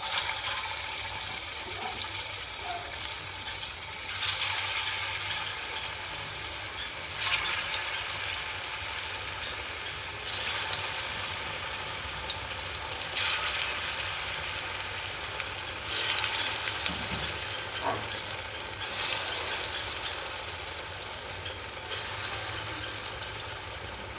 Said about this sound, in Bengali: তেল গরম হয়ে গেছে, এবারে আমি কোপ্তাগুলোকে দিয়ে দেবো।